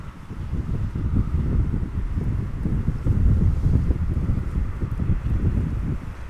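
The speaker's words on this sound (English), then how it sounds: "Wind is more or less blowing directly from behind, a little bit from the side, but it is causing a bit of shudder nonetheless" Wind at Amsterdam Schiphol airport buffets an outdoor microphone, producing a continuous low, rumbling roar with uneven gusty surges and no voices.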